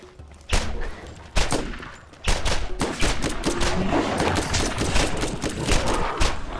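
Rapid bursts of sniper rifle fire in the video game Borderlands, loud, close, sharp reports in quick succession with a short pause early on, then near-continuous shooting.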